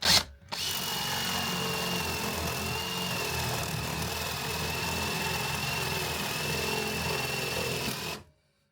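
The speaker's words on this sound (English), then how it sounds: "I'm drilling up against the bench, so it'll have a clean cut" A power drill bores through thin wood held against a workbench, one continuous steady whine lasting several seconds before cutting off abruptly.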